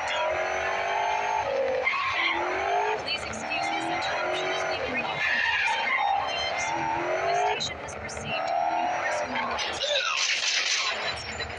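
A fast car driven in the game Gangstar Vegas, its engine roaring and revving with rising and falling pitch and occasional tire squeals, continuous and loud, with a voice speaking over it.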